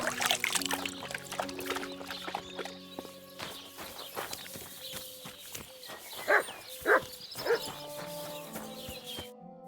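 A dog in the medieval video game Kingdom Come Deliverance II gives a few sharp barks near the end, over footsteps and ambient village sounds with background music.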